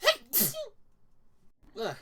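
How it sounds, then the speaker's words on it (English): A person sneezes sharply twice in quick succession, close to the microphone, then follows with a brief groan after a short pause. "Ooh, guys, sneeze."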